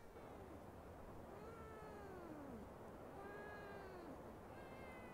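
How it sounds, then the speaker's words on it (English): A farm cat in a farming video game meows two drawn-out, rising-and-falling calls, faint and clear over a soft background hiss, with no talking. "he meows because he wants some tuna"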